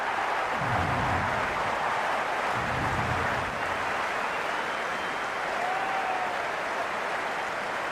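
A stadium crowd in the Cricket 26 video game cheers and applauds during an IPL match between CSK and MI, a dense, steady roar that holds at an even loudness throughout.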